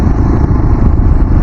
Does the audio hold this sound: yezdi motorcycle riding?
yes